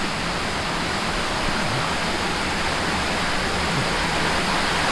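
Water pouring down from a forest stream, a loud, steady, close rushing hiss of flowing water that fills the whole stretch without a break.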